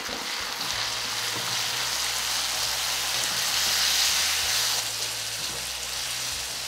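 Chopped tomatoes sautéing in a pan with garlic for a Tamil tomato kuzhambu, giving a steady close hiss and sizzle throughout with a faint low hum underneath; no talk.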